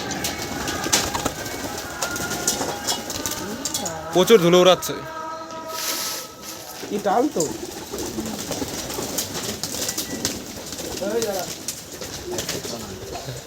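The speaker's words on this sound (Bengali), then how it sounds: "রাতেরবেলা লাইট জ্বালিয়ে দিয়েছে তো পায়রাগুলো ছাড়া হচ্ছে" Madrasi pigeons released at night under lights at a loft in Nadia district, with soft cooing and bursts of wing flapping mixed with background chatter and people talking nearby.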